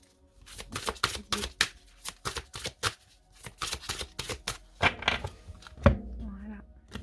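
A deck of tarot cards is cut and shuffled close up, giving a run of quick crisp riffling bursts with short pauses, then a soft thump near the end.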